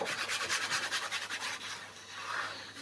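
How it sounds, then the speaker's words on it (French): An eraser rubs along the edges of a paper craft album in quick, soft back-and-forth strokes, close and quiet, easing off briefly before a final scrub. "Je vais juste venir gommer mes côtés, hein, pour pas que ça se voie."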